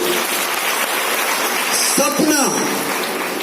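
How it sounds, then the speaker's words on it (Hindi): An audience at a business talk breaks into loud applause, a dense, steady patter of many hands clapping throughout, with a voice speaking briefly over it near the middle. "जोरदार ताली होनी चाहिए।"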